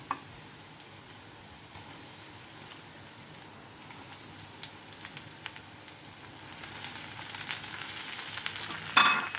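Pointed gourd and onions frying in a pan give a soft, steady sizzle with faint stirring scrapes, growing slightly louder near the end, with no talking.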